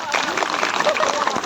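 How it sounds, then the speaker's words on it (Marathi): A crowd at a Shivjayanti celebration claps loudly and steadily, a dense wash of applause filling the whole moment. "त्यांच्यासाठी जोरात टाळ्या होत्या"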